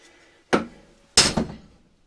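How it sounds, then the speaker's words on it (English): Two sharp metal hammer strikes on a rusted Chevy K10 front axle part, the second followed by a quick rebound hit, loud and close in a quiet workshop. "I'm hitting on this already rusted, crappy part"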